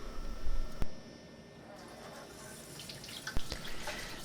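Water runs from a restroom tap as hands are rinsed, a steady hiss of flow with a couple of sharp knocks and some splashing, fairly close and faint.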